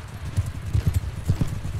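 Horse hooves pounding in a cavalry fight in the Bannerlord video game, several rapid uneven clip-clop beats close by, set against battle noise with no speech.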